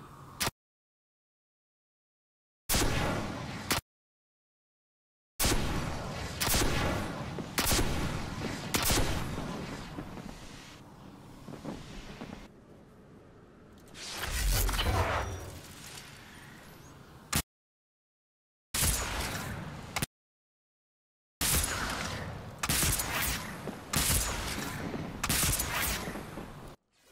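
Rocket launcher fire from Destiny 2, comparing the Sins of the Past and Curtain Call launchers: bursts of heavy blasts and explosions in repeated volleys, separated by brief silent gaps, loud and close with no talking.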